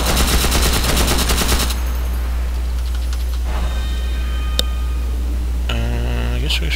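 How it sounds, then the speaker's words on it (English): Magical bullets fire in rapid bursts in the video game Magicka, a quick rattling volley followed by scattered lighter shots under steady game background noise, with a voice speaking briefly. "He's shooting me with magical bullets!"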